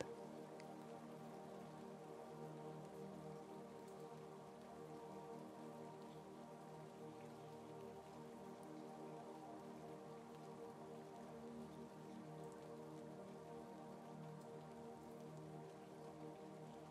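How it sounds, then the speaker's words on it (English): Gentle rain falls in a steady, even patter on surfaces, continuous and soft throughout with no voices or other sounds. "With the rain's gentle persistence"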